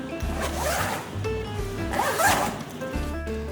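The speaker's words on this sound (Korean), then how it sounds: "지퍼들을 보면 YKK 방수 지퍼를 사용했다고 하는데 이 지퍼에 열고 닫는 느낌이 정말 좋습니다." A YKK waterproof zipper on a camera backpack being opened and closed, close and clear as two long, rasping pulls with a brief pause between them.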